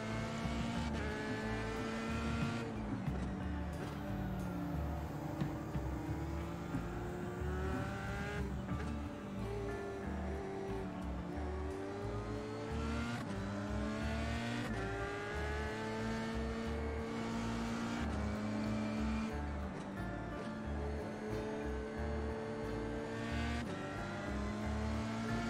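Race car engine in the iRacing sim game, loud and continuous, with rising and falling revs through repeated gear shifts and some tire squeal, no voices.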